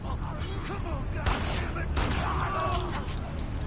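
Gunfire aimed at clickers in a video game, a few sharp shots and bursts standing out over a dense, noisy background of game sound, with a voice talking across it.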